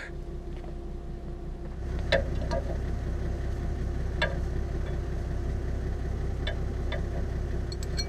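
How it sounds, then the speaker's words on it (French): A farm tractor's engine runs steadily at a low idle while the hitch is raised during rapeseed sowing, a continuous mid-level rumble with a slight lift partway through and scattered faint clicks and ticks. "Je vais lever le tracteur pour ça."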